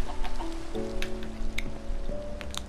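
Rain falls in the Minecraft video game as a soft, constant hiss, with chicken clucks popping in now and then and no voices.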